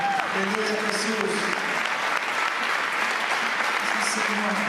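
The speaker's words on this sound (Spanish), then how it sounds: "le dan un aplauso al Señor" A church congregation claps in sustained, dense applause. A few voices can be heard over the clapping.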